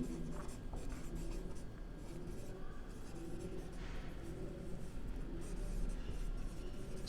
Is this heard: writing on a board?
yes